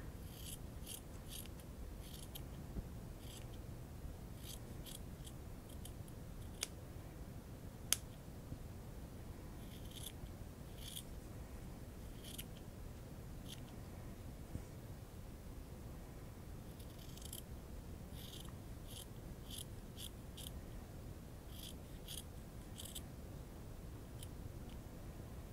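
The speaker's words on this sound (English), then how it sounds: "Once again, I'm going to trim the seam allowance." Scissors trimming the fabric seam allowance on a sewn frog: quiet, close snips in small clusters with pauses between them, continuing for about twenty-five seconds.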